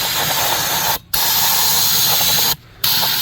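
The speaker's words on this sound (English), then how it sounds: "using some brake cleaner" Aerosol brake cleaner sprayed onto an old greasy brake rotor on a stand in a workshop: two long, loud, steady hissing bursts, each lasting about a second, with a short pause between them.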